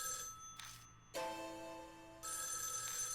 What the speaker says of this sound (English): Suddenly, the phone from the next room rings.